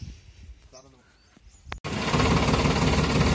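Tractor engine running while people ride aboard on the way to a temple, a loud steady rumble that cuts in abruptly after quieter talk and continues close and constant.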